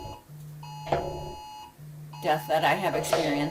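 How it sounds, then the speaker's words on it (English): A phone's Amber Alert emergency tone goes off in steady high beeping bursts, loud and close, while people keep talking over it. "and that's my phone going off."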